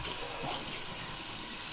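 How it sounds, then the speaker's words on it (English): A kitchen faucet runs steadily, water splashing into a sink in a constant broadband rush, fairly close, with no talk over the brief stretch. "Turn on the faucet"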